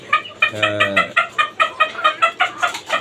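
Chickens cluck close by at a rooftop poultry farm in a quick run of short, rhythmic calls, with one longer drawn-out cackle near the start.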